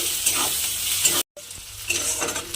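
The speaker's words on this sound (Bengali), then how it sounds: "পেঁয়াজটাকে আমি একটু লাল করে প্রথমে ভেজে নেব" Onion frying in a pan for a Bengali rohu fish and potato mash, a steady broad sizzle with stirring scrapes, close and continuous, cut by a brief silent gap midway.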